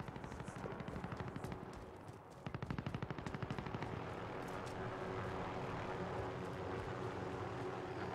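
Enemy helicopter overhead in the Call of Duty Warzone video game, a loud continuous rotor and engine drone with rapid pulsing chop, steady and close throughout.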